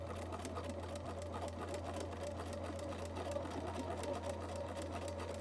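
A home sewing machine stitches decorative trim along the edges of fabric for a hooded garment, running in a fast, even mechanical whir with a steady low hum, close and uninterrupted.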